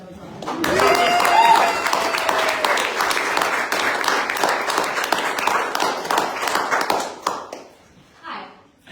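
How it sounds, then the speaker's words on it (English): A crowd claps at a Make Polluters Pay campaign launch, a thick burst of applause that holds for several seconds and then tapers off into scattered claps and murmuring near the end. "I think that deserves another round of applause."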